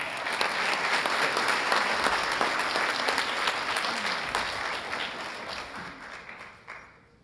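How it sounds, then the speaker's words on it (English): An audience applauds at a police department awards ceremony, steady dense clapping that carries on for several seconds and then tapers off near the end. "Another round of applause."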